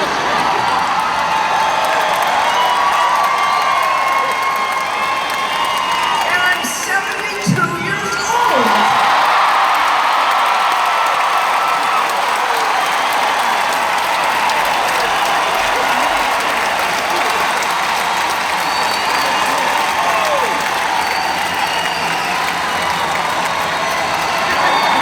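Loud, dense audience clapping and cheering at a concert, sustained for the full stretch with whoops and shouts mixed in and a brief louder burst partway through.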